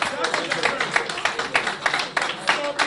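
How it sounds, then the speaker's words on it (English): Audience applause for an elections director at a live event: dense, steady clapping from a crowd fills the space throughout, loud and continuous with no talking over it. "Another round of applause for this fantastic elections director."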